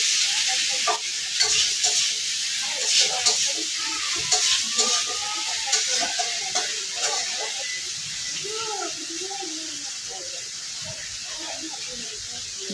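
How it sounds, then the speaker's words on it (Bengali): Masala fries for a Bengali fish curry, a loud continuous hiss and sizzle with stirring scrapes through it, close up, while a voice talks over the first half. "মশলাটা লাড়ে নিতে জল তো একটু দিচ্ছি হালকা তো তার জন্য মশলাটা লাড়ে হয়ে দিতেছি"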